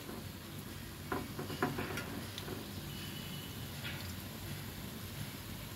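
Banana fritters frying in oil give a soft, continuous sizzle at low volume, with a few brief stirring clicks early on.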